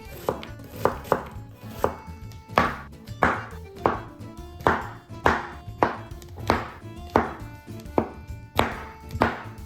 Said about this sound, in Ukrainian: Так само печериці ми будемо нарізати дрібно, вони теж усядуться.